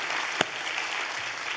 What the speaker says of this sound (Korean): 박수를 좀 드리도록